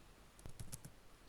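A quick burst of four or five light computer-keyboard keystrokes as a file name is entered, faint and close, set against quiet room tone with no talking.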